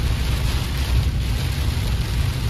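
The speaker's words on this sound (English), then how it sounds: "Well, it might be just a little bit of rain." Steady rain falls during a stormy outdoor trip along flooded creek banks, an even, continuous hiss with a low rumble underneath, close and fairly loud, with no talking.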